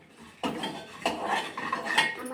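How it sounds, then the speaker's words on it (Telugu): Coriander seeds roast in a metal pan while a utensil stirs and scrapes them, giving a few distinct clinks and scrapes over steady frying sizzle. "ఇప్పుడు నేను ఈ ధనియాలను కలుపుతున్నా చూడండి"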